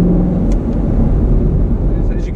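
A 2019 Chevrolet Camaro ZL1 1LE rolling away gently on cold track tires, its low engine drone steady and close, with faint speech-like sounds over it.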